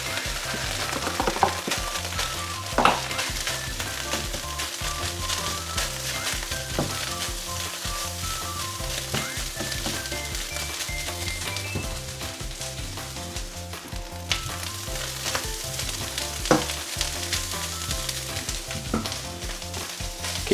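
Rice frying in a pan with Cumberland sausage while being stirred, a continuous crackling sizzle with scraping and clinking of the utensil against the pan, close and steady throughout.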